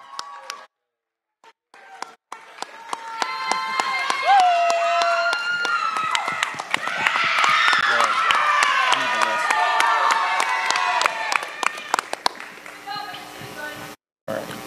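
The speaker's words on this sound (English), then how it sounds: "Give them one last good round of applause." A pageant audience breaks into applause and cheering, clapping swelling to a loud roar with shouts and whistles, then thinning out toward the end.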